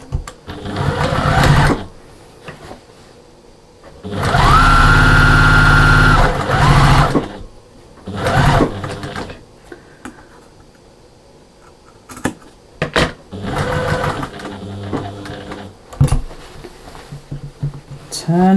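Domestic sewing machine stitching the roughly 3/8-inch seam of a fabric storage caddy, running in several loud bursts of steady whirring, the longest a few seconds, with short pauses and handling noises between.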